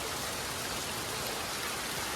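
Heavy rain pours down during a Konkan thunderstorm, a dense, even hiss of falling water that is steady and unbroken, with no voices.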